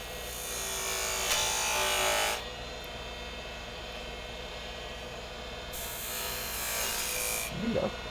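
A wood lathe spins a workpiece while a skew chisel cuts it, giving a steady broadband hiss that swells loud for a couple of seconds, drops to a quieter hum, then rises again, with a brief low knock near the end.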